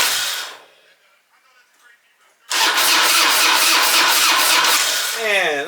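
A Harley-Davidson Dyna motorcycle on a budget build, fitted with a new battery and a freshly installed carburetor, cranks in neutral with the choke on. After a short quiet gap, loud, rapidly pulsing starter cranking runs for about three seconds.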